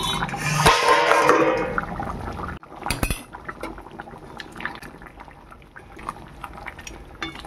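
Metal lid lifted off a pot of simmering mung dal cooked with fish head, giving a bubbling, hissing burst and a sharp clink, followed by quieter stirring and scraping of the pot.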